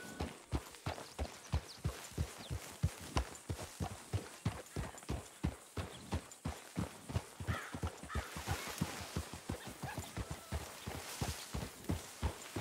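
A horse walks at a steady clip-clop in Red Dead Redemption 2, hooves striking in an even, close rhythm against faint outdoor ambience with occasional distant crow caws.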